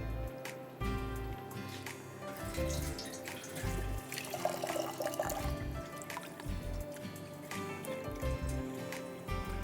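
Brown rice being washed in water, a close, continuous watery swishing and trickling with small splashes and clatters in a kitchen.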